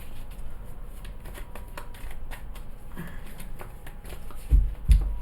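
Tarot cards are shuffled and cut by hand, giving a run of quick, close papery riffles and flutters, followed by a couple of louder soft thumps as the deck is cut and set down, with no talk.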